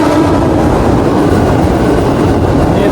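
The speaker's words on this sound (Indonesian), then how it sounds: "dari jalur 2 melintas langsung KRL JR205 dari Bogor, Jakarta Kota" A KRL JR205 commuter train runs straight through on track 2, a loud, close, continuous rumble with rhythmic wheel clatter filling the whole moment.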